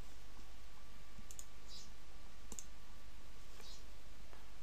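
A computer mouse clicking while someone works in 3D map-editing software: a few faint, sharp clicks spaced over a few seconds against a steady low hiss, with no talking.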